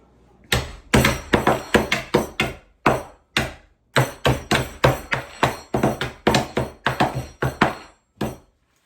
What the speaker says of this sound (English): So hammer it onto this big board here